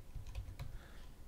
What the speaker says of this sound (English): So I'll just come to the Notepad and type in /assets /